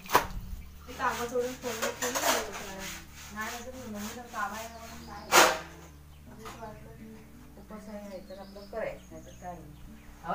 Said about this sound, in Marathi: तर ब्रश निवडलं चांगले घासून